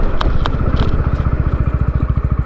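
A 2024 TVS Ronin 225 motorcycle engine thumps in a steady rapid pulse close by during a braking test, with a couple of brief clicks early on as the machine slows.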